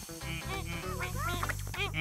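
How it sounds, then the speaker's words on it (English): Cartoon ducks quack in a quick, busy string of calls over a steady low musical backing, with a voice heard alongside them in a children's animated picnic scene. "Oh, ducks."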